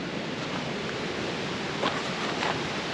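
A swollen creek, running high and muddy after heavy rain, rushes continuously in a broad hissing roar heard from nearby at moderate level, with no voices.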